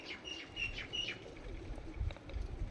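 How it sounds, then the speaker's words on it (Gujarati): Many birds nesting in a seaside tree chirp and call in short, repeated bursts over a low rumble of wind and surf, with brief wing flutters; the calls stand fairly close and carry no speech. "જુઓ કેટલા પક્ષીઓ બેઠા અત્યારે, ગણાય નહીં એટલા પક્ષીઓ છે અત્યારે."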